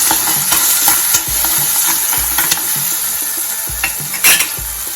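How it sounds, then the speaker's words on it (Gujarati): Stirring turmeric powder into masala Maggi in a pan, a spatula scraping the metal in repeated strokes over a steady background sizzle, close and fairly loud, with no voices. "હાફ ટી સ્પૂનથી પણ ઓછો હળદર પાવડર એડ કરીશું મિક્સ કરી લઈશું"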